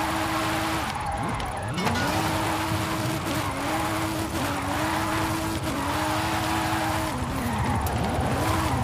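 Car drifting in Forza Horizon 5 in a seasonal drift zone, a loud engine revving and shifting pitch as the car slides through corners, with tire squeal woven through the steady roar.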